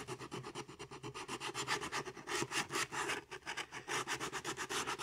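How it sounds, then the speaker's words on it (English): Wood edges are sanded round by hand with 100 grit sandpaper while finishing a wooden phone amp, a close, steady back-and-forth rasping in quick regular strokes with no talk. "So I just like to get 100 grit and I just like to round these edges over."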